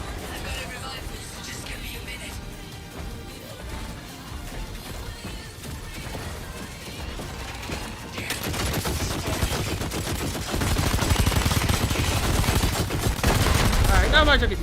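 Rocket and gunfire barrage in the beta of the mech video game Steel Hunters, a steady dense rumble of explosions under game noise that grows louder and heavier in the second half, with a voice talking over it.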